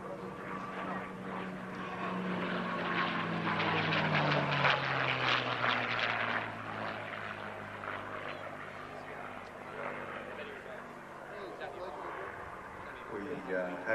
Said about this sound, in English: Lovely displays today of both aircraft by First Matt Hall